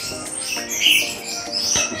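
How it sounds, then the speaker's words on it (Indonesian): Chirps from a rare hybrid chick, a Bali starling crossed with a Hong Kong starling, come as a run of sharp, high calls over about two seconds, fairly close and clear with no voices. "ini silangan jalak Bali, jalak Hongkong yang masih sangat langka ya"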